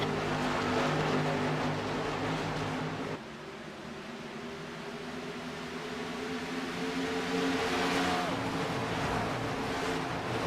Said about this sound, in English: is sliding that race car around the racetrack